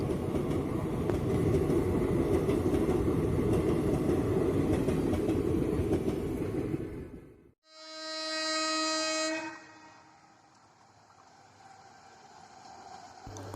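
A WAG 9 electric locomotive shunts an empty rake on the Chennai Central–Arkonam section, a loud rumbling run of wagons passing close that cuts off abruptly, followed by a sustained horn blast and a quieter tail of rolling rail noise.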